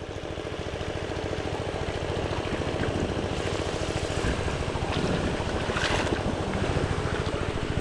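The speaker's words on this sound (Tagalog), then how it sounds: "Hangin lang yan, hangin." Steady wind buffets a boat at sea, a continuous loud broadband rush with waves and water noise mixed in, rising slightly toward the end.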